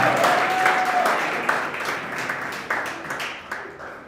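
An audience claps at a launch event for an AI and robotics research and training center, a moderate wave of applause with a few sharper claps that gradually fades toward the end.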